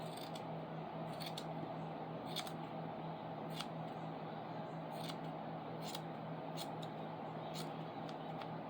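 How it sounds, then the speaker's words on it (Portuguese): Scissors trim the rounded fabric corners of a rag doll made from pajamas, a series of quick crisp snips at an uneven rhythm, close and fairly quiet over a steady background hum. "E aqui a gente vai abrir dessa forma e é só aparar, arredondando aqui essa parte, as pontinhas."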